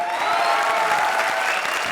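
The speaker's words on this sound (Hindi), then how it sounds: "सबसे पहले फिनाले की जोरदार ताली बजाओ।" Loud studio audience applause for the finale of a Hindi comedy show, a thick, continuous roar of clapping with a hint of cheering.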